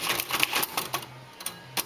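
Rapid clattering keystrokes on a Royal Quiet Deluxe manual typewriter, a dense burst of close, bright clacks that thins into a few spaced strikes, some keys snagging as they jam.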